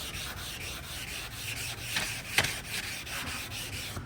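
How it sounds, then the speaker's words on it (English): Hand block sanding of automotive primer with wet sandpaper, a steady soft rubbing scrape in even back-and-forth strokes, close and moderately quiet with no talk. "So first I go ahead and sand like this."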